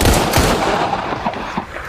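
Gunshot sound effect: a few loud, sharp reports near the start, then scattered softer pops inside a dense, noisy wash with no speech.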